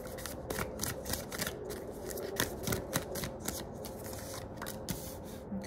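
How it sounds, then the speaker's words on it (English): Tarot cards are shuffled by hand close up, a quick run of crisp riffling flutters and soft slaps repeating in bursts, with no talk over them. "let me shuffle real quick"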